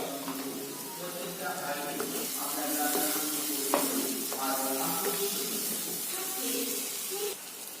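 Cumin and spices fry in a pan for a golda chingri malai curry, a steady hissing sizzle with stirring scrapes and some tonal background sounds throughout.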